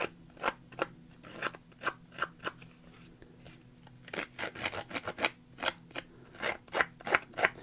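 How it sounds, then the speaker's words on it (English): Deckled edge trimmer cutting and roughing up paper edges for a mixed media art journal page, a quick series of crisp, close snipping scrapes, fairly quiet, with no talk. "because I used the deckled edge trimmer, it's just making it easier and quicker to rough this up"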